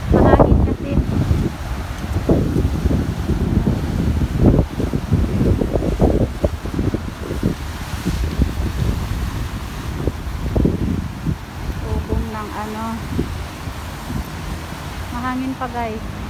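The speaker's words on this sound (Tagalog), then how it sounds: "Mahangin kasi" Strong wind buffets the microphone in loud, continuous rumbling gusts while people talk nearby.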